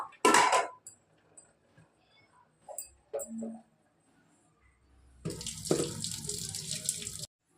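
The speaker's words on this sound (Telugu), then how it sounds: "అన్నం ఉడికిపోయింది, వంచుకుందాము." Cooked foxtail millet rice is drained, starting with a short splash and a few clinks of the pot, then a steady pour of water running out for about two seconds, close by.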